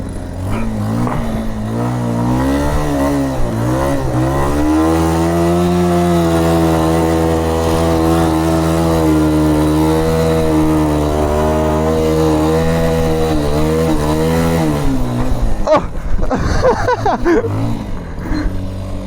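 Enduro motorcycle, a Kymco 125cc or Yamaha 85 YZ, revs loud and close with a sustained, wavering engine whine that rises and falls for most of the stretch, then breaks into sharper bursts near the end.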